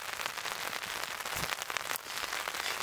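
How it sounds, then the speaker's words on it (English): Heavy rain drums on a tarp overhead, producing a dense, continuous, loud pattering with occasional sharper drop hits and no talking. "it's pouring rain now"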